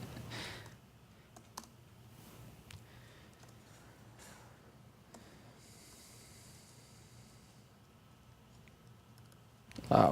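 Quiet, soft typing on a MacBook Pro keyboard during a CakePHP workshop session, scattered key clicks with faint breathing, ending in a louder burst of noise.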